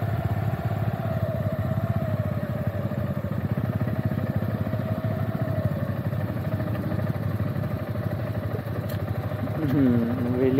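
Kawasaki Z900 motorcycle engine held at a steady mid-pitched drone during a wheelie, close and loud, with the revs lifting slightly near the end.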